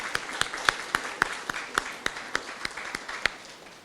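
Sparse, distinct claps ring out at a book launch, a few hands beating a steady rhythm of roughly four claps per second over a quiet room.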